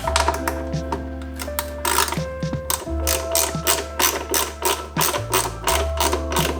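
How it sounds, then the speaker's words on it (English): An 8mm socket ratchet undoing bolts on a Honda FK8 Civic Type R, quick bursts of dense clicking close by, several runs of ratcheting over a low steady hum. "You're gonna take your 8mm socket and just undo these bolts right here."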